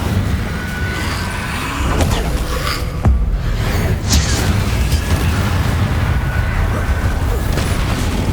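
Incendio fire spell from the Hogwarts Legacy game, loud whooshing fiery bursts and booming impacts over a dense, roaring battle din, several sharp hits spaced a second or so apart.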